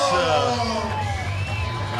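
Basketball fans in the stands at a 3x3 men's match, Qatar against Côte d'Ivoire, cheer and whoop in a steady, loud crowd roar with shouting voices mixed in.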